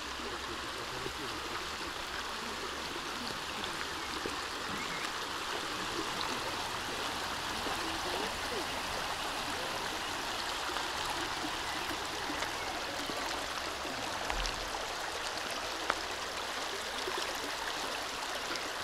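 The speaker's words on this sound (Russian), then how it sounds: "Холодная горная река." A cold mountain river rushes steadily, a broad, even hiss of flowing water with no pauses, fairly close and continuous.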